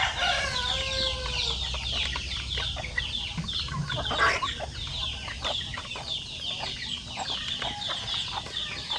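Chickens cluck and murmur continuously close by in their coop, with overlapping calls and a crow-like cry partway through, against a low background hum.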